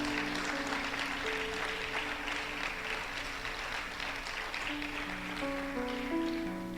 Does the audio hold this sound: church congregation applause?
yes